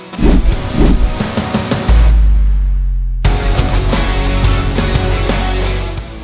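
A small auto rickshaw engine hums steadily during a ride through a village near Jaflong, Sylhet, with a loud rumbling stretch and continuous road and engine noise throughout.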